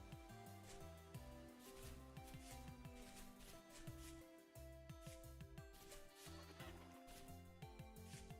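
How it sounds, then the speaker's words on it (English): Sheep bleating in the survival game Vintage Story, thin calls sounding over a constant layer of game music and ambience, without talk. "I hear sheep again. Phantom sheep from the deep."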